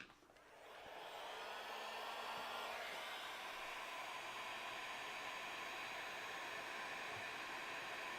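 A hair dryer blows over a stitched leather Halloween mask in a workshop, a steady, even, close whooshing roar that starts up and then holds continuously without talk.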